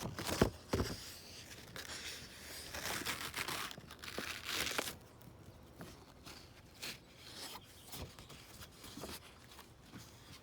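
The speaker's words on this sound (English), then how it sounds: "Now I'm just gonna push the paper off the mold." Crisp handmade paper is pushed off a papermaking mold, giving dry crinkling and rustling bursts and scraping rubs, strongest early and then quieter, close and fairly soft, with no talking.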